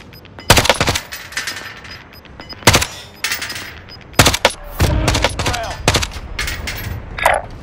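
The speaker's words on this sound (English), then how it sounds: "Someone's sniping me." Sniper and rifle shots in Call of Duty Warzone on Rebirth Island, sharp loud cracks spaced irregularly with a short volley between, over faint game ambience and occasional voices.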